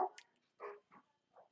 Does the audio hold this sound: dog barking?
yes